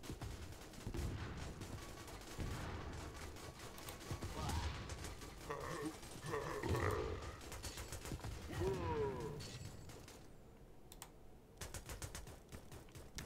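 Rapid bursts of gunfire crackle through a video game firefight, dense and fairly loud, with clicky keyboard-like patter mixed in and a few quieter gaps near the end.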